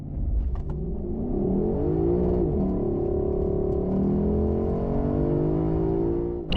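A 2024 Lexus LC 500 V8 roars through a hard launch-control start, climbing through the gears in long, steady pulls, loud and up close with no voices.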